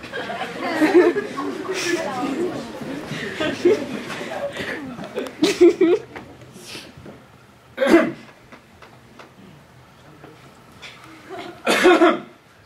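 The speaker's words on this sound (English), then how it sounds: "Cough, cough!" A person coughs several times in short bursts, including a louder cluster near the end, mixed with chuckling and chatter from others nearby during a Seussified Romeo and Juliet performance.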